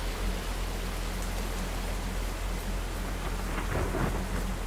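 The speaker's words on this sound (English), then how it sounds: "the rain's starting to cool down" Steady heavy rain pours in a Roblox Twisted thunderstorm, with low thunder rumbling underneath and a stronger rumble swelling near the end; no talking.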